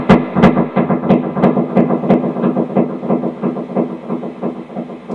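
Electric guitar through stacked delays including a Carbon Copy modulation delay, a dense, washy cascade of overlapping repeats with a constant churning pulse and no clear note edges.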